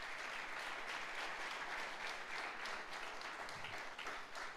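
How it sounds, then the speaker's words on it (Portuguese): A church congregation gives steady, dense applause for a few seconds, even in level and heard from within the hall. "Você pode dar uma salva de palmas ao Senhor?"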